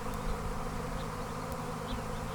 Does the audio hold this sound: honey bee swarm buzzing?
yes